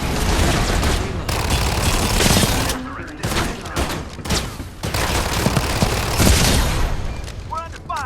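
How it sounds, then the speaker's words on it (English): Heavy gunfire in a shooter video game, dense bursts of shots and booms layered over one another, loud and continuous, with a voice speaking partway through. "We're under fire."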